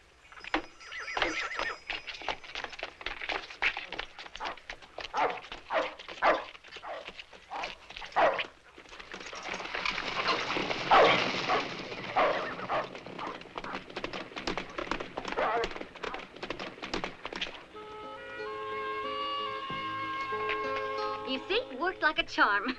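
Dogs bark in repeated sharp bursts in a Western film scene, mixed with horse sounds and people talking, the barking loud at first and then intermittent among other noises.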